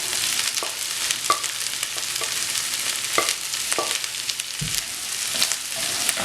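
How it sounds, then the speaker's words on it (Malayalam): Okra with onion and green chilli sautéing in a pan makes a continuous close sizzle, with regular scraping strokes of a spatula and occasional knocks against the pan, no talk. "ഇനി ഇതിലേക്ക് നമുക്ക് സവോളയും പച്ചമുളകും കൂടി ചേർത്ത് കൊടുക്കാം."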